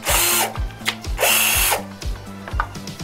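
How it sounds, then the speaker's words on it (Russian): A cordless drill-driver fitted with an upgraded battery, clutch set to 5, whirs in bursts while its clutch ratchet slips with rapid, loud rattling clicks, close up and with no talk. "Сила тока, что запросто трещотка срабатывает."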